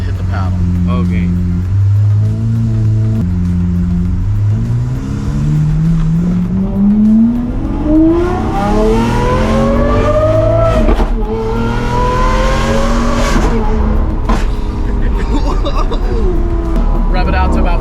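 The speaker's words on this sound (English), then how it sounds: "Rev it out to about 40 and then shift and it'll give you that big pop." Lamborghini Aventador SVJ with a Gintani F1 exhaust and flame tune, its V12 revving hard through an automated manual with rising and falling sweeps and sharp pops, loud and close, with talk inside the cabin over it.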